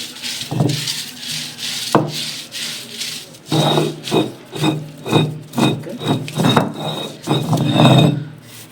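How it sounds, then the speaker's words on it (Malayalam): Curry leaves are crushed by hand for a Kerala upperi spice paste, giving rhythmic, close, rough grinding strokes in repeated pulses of about half a second, with a few sharper knocks. "ഒരു തണ്ട് കറിയേപ്പല അത് ഒന്ന് ചെറുതായിട്ടൊന്ന് ചതച്ച്"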